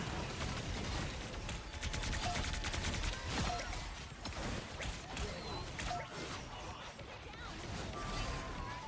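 Rapid bursts of video game gunfire crackle continuously for several seconds, busy and fairly loud, with a voice talking over them.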